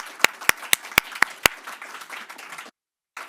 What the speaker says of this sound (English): Applaud for my speakers